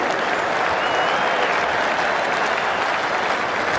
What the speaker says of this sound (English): Getting a standing applause from the crowd, and well-deserved, Andrew Flintoff